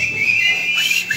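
Audience whistling in the crowd at a live rock concert, a sustained shrill tone with a few sharper rising whistles near the end, steady and fairly loud.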